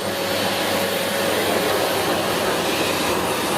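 A Philips FC8575 vacuum cleaner runs with a loud, steady whine and roar that holds constant and close throughout, with no pauses or voices.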